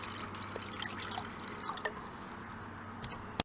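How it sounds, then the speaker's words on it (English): Water, about a cup and a half, trickles and splashes into a pot for tea in a faint, steady pour lasting a few seconds, ending with a small clink. "Some water goes in the pot."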